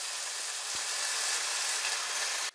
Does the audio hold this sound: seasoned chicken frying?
yes